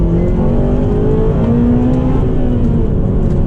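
A 2009 Honda Civic Type R FN2 accelerating hard, heard from inside as a loud, steady engine drone with rising pitch through the gear.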